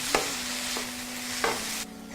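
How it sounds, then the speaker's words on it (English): Green peppers stir-frying in a pan, a steady sizzle broken by a few sharp scrapes and clacks of the utensil, with a faint low hum running underneath. "Okay, my green peppers going in."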